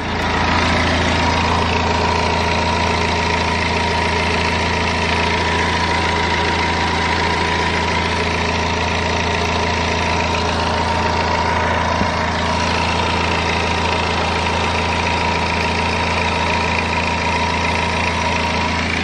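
A BMW E90 3 Series petrol engine idles steadily after a full service, a loud, even, continuous hum with a constant low drone throughout and no voices.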